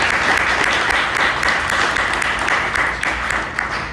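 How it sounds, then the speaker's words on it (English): An audience gives a guest speaker a loud, close round of applause, dense and continuous for several seconds before easing slightly toward the end. "A big round of applause for Sean for making it out today."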